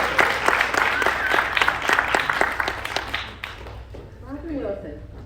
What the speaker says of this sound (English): applause for the song.